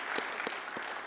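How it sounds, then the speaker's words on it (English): Applause at a leadership award event, fairly quiet and brief, with a few distinct claps standing out over a soft continuous patter. "Another round of applause."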